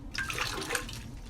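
Tap water is poured from a mug into a sink, a brief, soft splashing gush lasting about a second, close and quiet with no talk.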